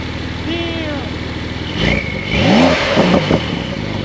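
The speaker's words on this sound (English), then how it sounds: "That turbo sound is nuts." Porsche 911 Carrera with a turbo engine idling close by, then blipping in a couple of sharp revs with rising whine, brief bursts of throttle over a steady rumble, with a voice speaking at the start.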